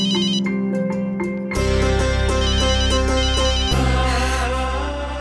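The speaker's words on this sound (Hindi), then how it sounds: "इस वक्त किसका फोन आया होगा?" A phone ringtone plays a looping electronic melody, loud and close, with the tune shifting partway through and continuing without pause.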